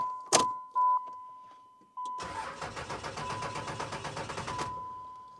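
A 30-year-old truck engine cranks with a rapid, rhythmic churning for a few seconds after an earlier clunk and brief whir, heard close and clear with a steady tone running underneath; no voices.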